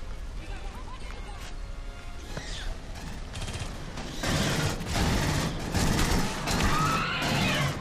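Rifle fire in the video game Aliens: Colonial Marines: a quieter mechanical stretch of clicks and rattles, then bursts of loud rapid automatic shots that start about halfway through and keep going to the end.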